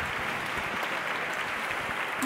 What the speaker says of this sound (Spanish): Gracias por esos espontáneos aplausos